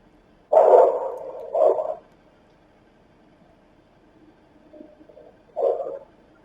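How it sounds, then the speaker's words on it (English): A dog barks in a few separate bursts, two close together near the start and another after a quiet pause, heard indoors at moderate distance with no talking. "And so that's a dog barking."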